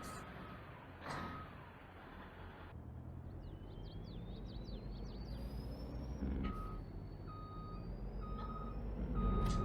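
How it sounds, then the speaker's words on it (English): A semi truck starting up in Farming Simulator 22, with a low engine rumble building under steady reversing beeps, a brief hiss and chirping tones, followed by rising whines and evenly spaced electronic beeps. "we are just going to hop in our new semi. Let it start up."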